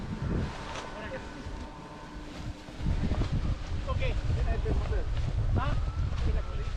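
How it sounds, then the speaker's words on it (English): An outdoor breeze buffets the microphone with a low, gusty rumble that grows stronger partway through. People talk over the wind. "It's a nice breeze now"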